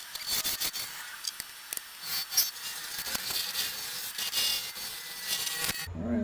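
A wood burl spins on a lathe as a tool cuts a tenon, giving a bright, hissing scrape with irregular bursts and catches, fairly close and steady, with no talking.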